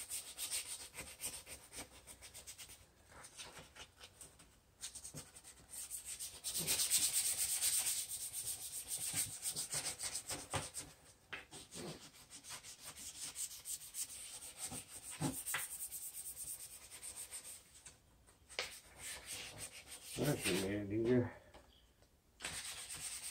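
A truck tail light is wet sanded lightly with 600 grit sandpaper, giving a faint, continuous rubbing scrape with brief louder strokes and some low background noise.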